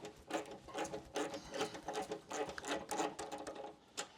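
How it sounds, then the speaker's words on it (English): Quick repeated clicking of a ratcheting wrench undoing a rear mount nut during spark plug wire replacement on a Harley-Davidson M8 engine, a close, rhythmic mechanical ratchet in bursts with no talk. "You can take your ratcheting wrench"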